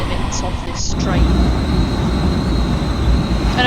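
A train in Train Sim World 2 running fast at about 81 km/h, with a steady, loud rumble and rail roar throughout, plus a faint high whine and a brief hiss near the start.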